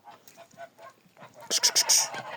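Grey geese honking in a loud, nasal burst of several rapid calls, close by, after quieter scattered honks and gabbling at the start.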